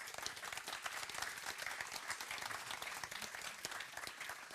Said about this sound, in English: Please join me in applauding our wonderful panelists.